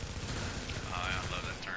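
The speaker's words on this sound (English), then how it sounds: "Oh, yeah, I love that turret." Rapid automatic turret fire during a Dark Zone fight in Tom Clancy's The Division, a dense rattling burst running steadily through the moment, mixed under game noise and a voice talking.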